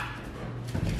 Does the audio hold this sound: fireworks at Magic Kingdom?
no